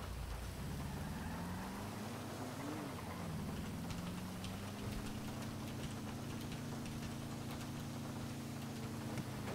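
Steady rain pours down in a video game, a dense even hiss filling the scene, with a low humming engine-like drone running underneath throughout.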